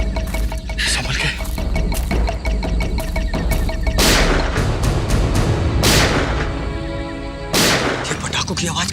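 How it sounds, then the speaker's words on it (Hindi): Firecrackers burst in a jungle as a series of loud sharp cracks and booms, several sharp broadband bursts spaced a second or two apart over a constant noisy background. "ये पटाखों की आवाज कैसी आ रही है?"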